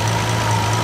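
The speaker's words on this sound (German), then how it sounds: "Wenn wir jetzt hier irgendwo hinsprühen und der Motor verschluckt sich oder läuft ganz rumpelig unrund, dann haben wir an der Stelle die Undichtigkeit." A Bentley Mansory engine idles steadily during a leak test, a continuous low hum with a constant tone, close and fairly loud for under a second, with no talk.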